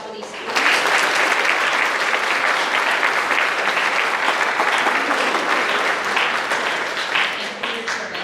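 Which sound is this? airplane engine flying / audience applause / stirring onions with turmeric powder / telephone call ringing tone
audience applause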